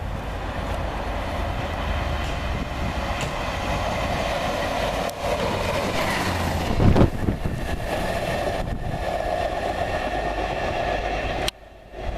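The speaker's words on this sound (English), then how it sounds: "The approaching train is not scheduled to stop at this station." A non-stopping train roars through platform 6 at Harrow and Wealdstone station, a loud, steady rush of wheels and wagons lasting about twelve seconds before it suddenly drops away.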